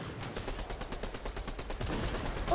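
Rapid automatic gunfire in the Fortnite video game, a fast rhythmic burst of repeated shots at moderate level, steady through the moment with no talk.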